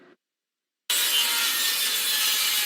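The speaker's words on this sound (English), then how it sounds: "The cutting and the drilling could be heard up and down Main Street in Sarasota on Tuesday." Wood is sawn steadily while businesses on Main Street in Sarasota board up windows ahead of Hurricane Milton; after a moment of silence the rasping cut starts abruptly and continues loud and even.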